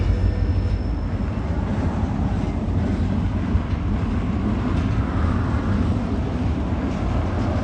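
A six-axle EMD diesel locomotive hauls a freight train up the steep Siskiyou grade, a loud, continuous low engine roar with rumbling wheels and faint clatter, steady throughout and without voices.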